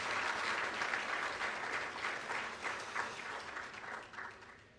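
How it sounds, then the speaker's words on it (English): Audience applause at the swearing-in ceremony of Ghana's Chief Justice: a full, steady round of clapping from a crowd indoors, holding strong for several seconds before thinning and fading out. "Another round of applause, please."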